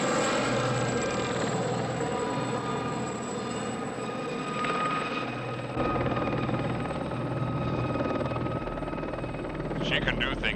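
The Blue Thunder helicopter drones steadily with a whining rotor and engine hum, with voices talking over it.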